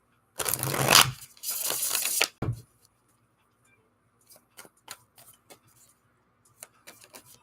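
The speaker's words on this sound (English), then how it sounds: "I'm going to wait a few minutes while I sit here and shuffle" Tarot cards being shuffled by hand, two close bursts of crisp riffling and papery scraping, followed by quiet sparse taps and card clicks.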